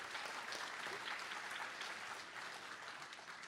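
A commencement audience at an undergraduate diploma ceremony applauds, a steady wash of many hands clapping, distant and soft, with no break across the stretch.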